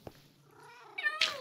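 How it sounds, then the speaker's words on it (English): A Minecraft village cat gives a single drawn-out meow that rises into a sharp, bright cry at the end. It is brief and fairly quiet, with no talking over it. "I think that's all the cats we have in this village."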